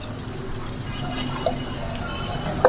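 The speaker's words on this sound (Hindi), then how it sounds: "पानी और डालते हैं।" A soft, steady trickle of liquid being poured, faint and even throughout, with a small clink near the end.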